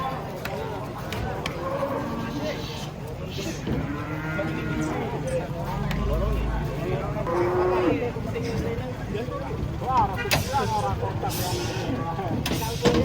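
A giant cow that slipped and collapsed after coming down from a truck lets out long, loud moos, repeated several times over a busy outdoor scene while people talk nearby.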